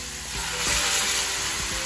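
Chicken pieces for adobo hitting a hot pan of cooked garlic and onions, a loud, close, continuous sizzle with a few soft knocks of stirring.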